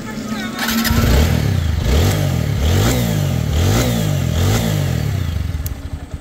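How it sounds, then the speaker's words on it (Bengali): A 2022 TVS Apache RTR 160 4V XConnect motorcycle engine starts and idles close by, with a steady loud rhythmic chug and repeated throttle blips that rise and fall. "আর আপনাদের বাইকটা যদি স্টার্ট করে সাউন্ড কন্ডিশন দেখাই"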